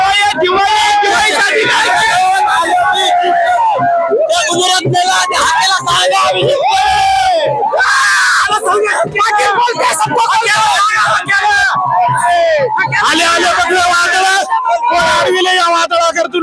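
Maratha protesters cheer and celebrate at Azad Maidan: a dense, loud crowd roar with shouts, whoops and yells that never lets up, voices layered over one another throughout.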